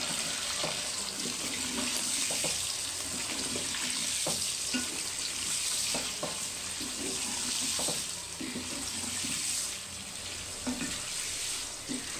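Chicken liver frying in hot oil makes a steady wash of sizzling and bubbling throughout, with faint clicks and scrapes of a utensil scattered at irregular intervals and no talk.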